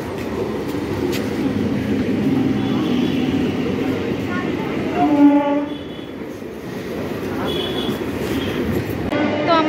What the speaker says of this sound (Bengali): এখন শিয়ালদাগামী যে কোনো ট্রেন ধরে আমরা বিধাননগর স্টেশনের দিকে যাব।